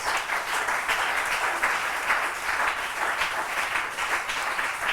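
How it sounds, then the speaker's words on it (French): Congregation applauding steadily in a church service, a dense, continuous wash of many hands clapping with no talk over it. "On acclame le nom de Jésus-Christ."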